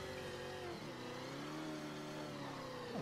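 An engine revs continuously as a car drives up in Mafia 3, its harmonic whine rising and dipping over three seconds, steady and fairly loud without speech.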